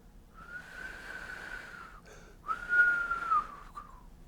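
A voice imitates the whistle of an incoming rocket heard in a war zone, two drawn-out whistling tones separated by a short pause, close and fairly quiet.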